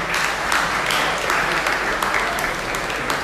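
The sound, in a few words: applause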